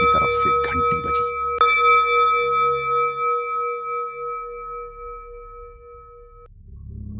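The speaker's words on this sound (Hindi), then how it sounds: "तभी मंदिर की तरफ से घंटी बजी।" A single temple bell strikes clearly and rings out with a long, pure, slowly fading tone after a few brief knocks and a voice.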